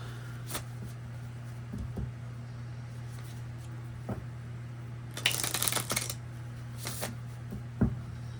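Light Seers tarot cards shuffled by hand in quiet surroundings: soft riffling taps and a louder burst of rapid flicks, over a low steady hum.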